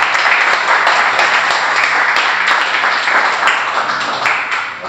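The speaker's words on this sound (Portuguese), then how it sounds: "Dê mais uma salva de palmas no Senhor Jesus" A men's congress congregation in church gives a round of applause, dense sustained clapping from many hands with a few sharper strikes, fairly loud and close, tapering slightly at the end.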